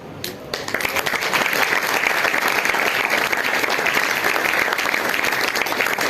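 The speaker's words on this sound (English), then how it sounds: "A huge round of applause." Theatre audience applauding at the end of a stage production of The Merchant of Venice, a dense, steady wash of many hands clapping that holds loud and even throughout, with no talk over it.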